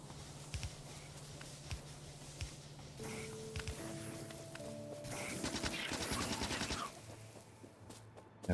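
Gun turrets in the Factorio video game fire at spitter enemies, with a quick stutter of shots building into a steady rattling burst amid the game's tonal sound effects and background music.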